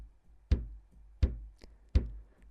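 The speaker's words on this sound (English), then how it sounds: "So this is a bass drum sound." A bass drum strikes three times at an even, steady tempo, each deep thud close and clear and fading quickly, with no other sound between the beats.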